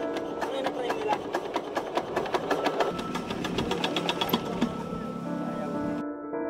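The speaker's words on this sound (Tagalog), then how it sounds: "Pinagtutulungan nilang paandarin ng jet pump na humihigop ng tubig mula sa ilalim ng lupa." A jet pump engine for drawing groundwater onto farm fields runs with a rapid, even chugging knock for about six seconds and then cuts out abruptly, with voices faintly underneath.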